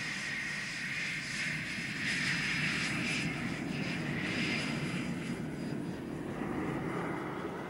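Allied combat aircraft from the Gulf War fly by with a loud, steady engine roar. The sound sweeps through a rising whine and stays strong and close throughout.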